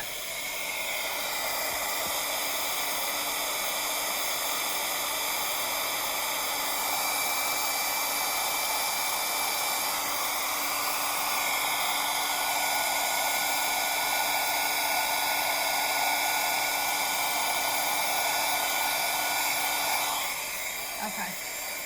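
A heat tool blows steadily for about twenty seconds to melt embossing powder, a loud, even whirring hiss with a faint high whine, cutting off near the end.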